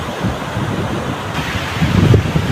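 Strong ocean waves breaking on a shore in late afternoon, a steady loud wash of surf and wind noise that swells louder near the end, with no voices.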